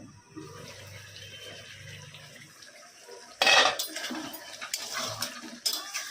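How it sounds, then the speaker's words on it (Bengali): Lid lifted off a simmering pot of crab curry with potatoes, a sudden metallic clatter and scrape against the pot rim, then softer clinks and bubbling, with no talk. "দশ মিনিট হয়ে গেছে ঢাকাটা খুলে দেখে নিই"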